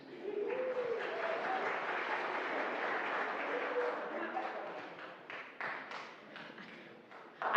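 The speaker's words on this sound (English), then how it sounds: "There was extra clapping in case you couldn't hear that online" A church congregation claps steadily for several seconds after a sermon, then the applause thins out into a few scattered claps.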